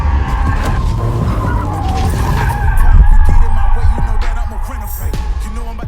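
BMW M5 drifting sideways on a drift pad, tires squealing and skidding loudly with engine roar underneath, the screech swelling midway and continuing to the end.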